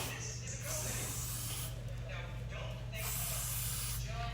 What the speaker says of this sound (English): And I'm just spraying this here.